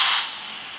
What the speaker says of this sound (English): Did you hear all the air come out of there?